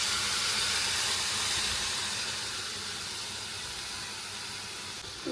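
Goat blood poured into a pan of sautéed onion, curry leaves and ginger-garlic paste sets off a loud, steady sizzle, a dense continuous hiss that holds for several seconds and eases slightly, with no talk.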